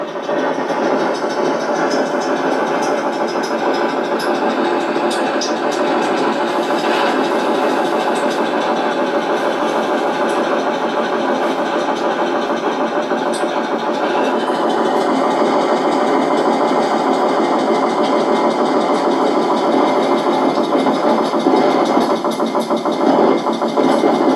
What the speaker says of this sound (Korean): 좀노골적으로 기계 돌아가는 소리입니다